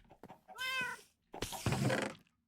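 A cat meows at feeding time, two drawn-out, close meows separated by a short pause, with faint soft rustling between them and no talking.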